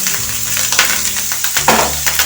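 Minced meat sizzling in a little preheated oil for samosa filling, a steady dense frying crackle with soft scraping from a wooden stick stirring through the pan, close and fairly loud.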